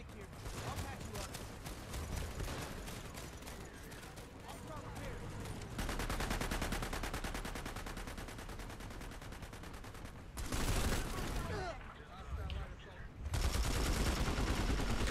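Rapid automatic gunfire crackles through a firefight in the game Planetside 2, long sustained bursts broken by short pauses, loud and close, mixed with other game noise.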